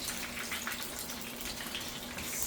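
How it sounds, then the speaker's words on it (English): Cod fish and crab fritters fry in hot oil, giving a steady, dense crackling sizzle that holds evenly throughout with no talking. "You hear that sparkle, that splashing? That means there's a lot of water in there."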